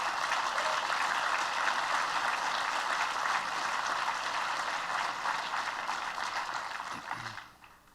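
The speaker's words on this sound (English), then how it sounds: "Let's give Jano Lieber a big round of applause." Sustained audience applause at a business luncheon in New York, a dense steady wash of many hands clapping that carries on for several seconds before fading away near the end.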